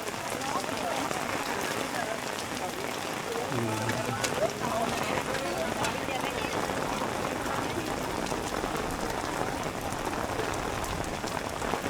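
Heavy rain from a sudden thunderstorm pours over the square at Hoan Kiem Lake in Hanoi, a dense, loud, continuous hiss of drops on the ground, with voices faintly present beneath the downpour.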